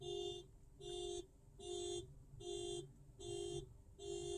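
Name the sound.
car alarm going off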